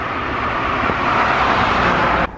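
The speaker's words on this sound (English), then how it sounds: "that's a car" A car passes on a road, a steady broadband rush that builds slightly toward the middle and holds near, with no voices over it, then cuts off abruptly at the end.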